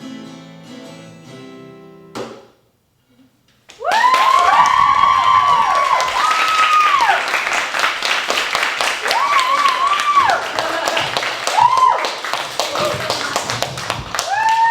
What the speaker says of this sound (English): Give another round of applause for D3 Improv and to Syd